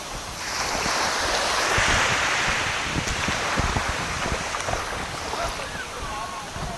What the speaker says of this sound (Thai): คลื่นดี